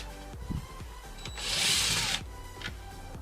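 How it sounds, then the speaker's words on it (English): A Torx T25 driver turns out screws on an Audi fog light housing, giving a brief whirring, grinding burst in the middle flanked by a few light clicks and knocks, close and fairly quiet with no talking. "There are two screws which requires a Torx driver"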